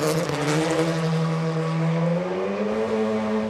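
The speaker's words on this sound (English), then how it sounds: "Luis Felipe Nunes from Portugal, building up the revs, just waiting for the lights, and he's away" An Audi RS3 TCR race car revs hard and accelerates away from a standing start at a circuit, its engine a loud, continuous drone that climbs steadily in pitch, recorded close with no speech.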